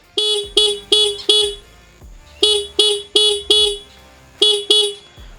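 Short TVS Sport motorcycle horn beeps in quick bursts: four honks, a pause, four more, then two, loud and close with no talk.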